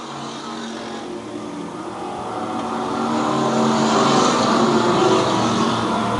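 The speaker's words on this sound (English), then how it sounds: "He has opened up some distance between Jennings, and he's in turn 3" Pure Stock and E-Mod race cars on a dirt oval at Lakeside Speedway, a steady engine roar from a distant pack that swells louder toward the end as the cars come nearer.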